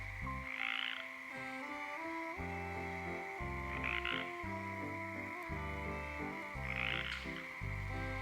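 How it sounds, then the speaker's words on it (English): Frogs croak loudly in a dense, continuous chorus in Olympic National Park, with a few brighter trilling calls bursting out at intervals over a steady drone. "Do you hear that frog right behind me? Let's listen."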